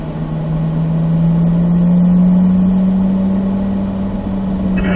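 A car pulls hard in third gear on a track with a loud, steady engine drone whose pitch climbs slowly and evenly, close and continuous with no talking.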